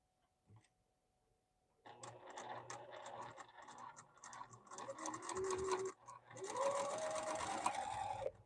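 A home sewing machine stitching fabric, starting after a brief quiet and running in a steady close whir with a short pause before speeding up again.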